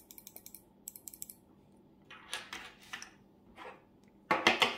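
Mechanical keyboard switches, Alps types and a Cherry mousetrap switch, are pressed in short bursts of crisp clicky keystrokes with brief pauses between, ending in a louder flurry.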